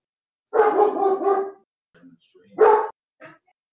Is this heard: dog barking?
yes